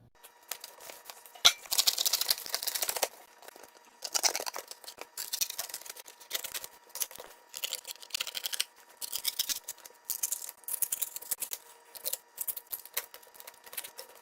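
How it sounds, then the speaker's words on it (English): Scissors cut cardboard pieces for a toilet paper engine build in a series of crisp snipping and rustling bursts, close and quiet with short pauses between cuts. "Now we're ready to cut."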